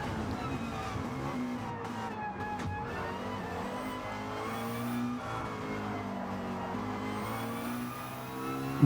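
Race car engine from a racing video game, a steady sustained drone with shifting pitch as the car works through corners, loud and continuous, with faint commentary voices underneath.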